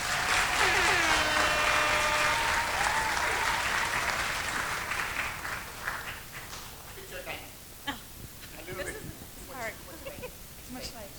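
Loud, sustained applause from a gala audience fills the room, fading gradually into scattered claps and murmuring voices toward the end.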